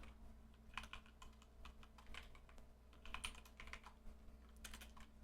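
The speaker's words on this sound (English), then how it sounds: "I don't usually type this bad." Quiet, irregular clicks of a computer keyboard sound while someone types code, in bursts of keystrokes with short pauses between them.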